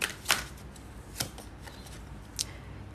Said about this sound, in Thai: ขอเปิดไพ่เพิ่มให้นะคะ